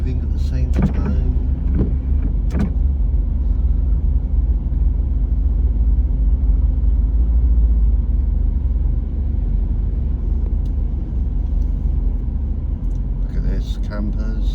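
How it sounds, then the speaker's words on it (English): Classic cars, including campers and big American V8s, pull out of a car park in Penzance, Cornwall, together, with a low engine rumble throughout and a few sharp clunks near the start and end. "As you can see, all the cars are leaving at the same time."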